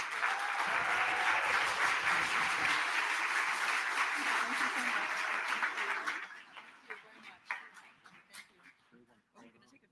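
An audience at a Malcolm X award ceremony breaks into loud, sustained applause that fades after about six seconds, leaving scattered claps and a voice speaking over the thinning sound.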